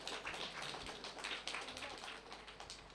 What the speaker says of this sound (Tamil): கரகோஷத்தை எழுப்பியும் பாராட்டலாம்.